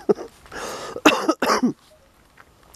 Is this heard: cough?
yes